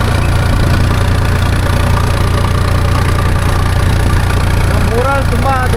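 A loaded farm tractor's engine runs with a steady, loud low rumble close by, continuous throughout, with a faint voice briefly over it near the end.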